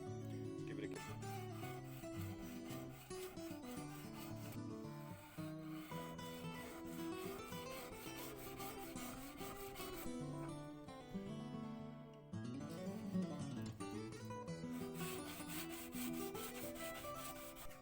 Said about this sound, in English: Now, sharpening. Still pretty blunt.